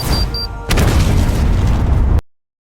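A loud, deep explosion booms and roars for over a second, a dense wall of rumbling noise that cuts off abruptly into silence.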